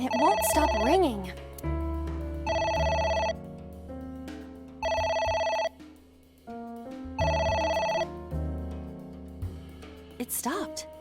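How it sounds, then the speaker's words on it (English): Telephone ringing in the video game AI: The Somnium Files, a loud electronic ring sounding in four repeated bursts over a game music backdrop, with a voice talking at the start and end. "It won't stop ringing."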